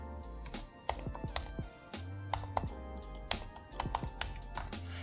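Computer keyboard typing of a network SSID and password, a quick irregular run of close, crisp key taps with brief pauses between bursts, no talking.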